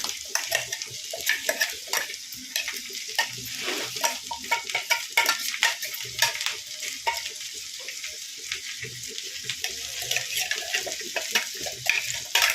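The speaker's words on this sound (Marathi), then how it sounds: "आणि तव्यावर जरा तूप टाकून फ्राय करायचं" Corn kernels stir-frying in ghee on a hot griddle, a steady soft sizzle with repeated scraping and stirring strokes and light clinks of a utensil against the pan, moderately close and with no talking.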